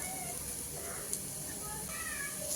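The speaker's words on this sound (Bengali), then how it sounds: "পেঁয়াজগুলোকে 1 মিনিট সময় মতো ভেজে নিব যাতে এগুলো নরম হয়ে আসে" Four large chopped onions frying in hot oil in a pan for a duck curry, a steady close sizzling hiss that holds evenly throughout.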